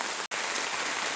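Heavy rain pours steadily at an off-grid tiny homestead, a dense, close hiss of drops drumming on surfaces that breaks for a split second before rushing on.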